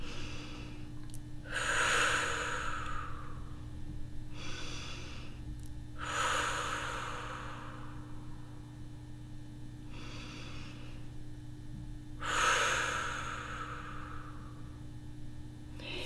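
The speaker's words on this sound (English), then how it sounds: "take deep belly breaths" Slow, deep belly breaths taken during a grounding energy exercise, three long, soft breathy swells spaced several seconds apart over a steady low hum, with no talking.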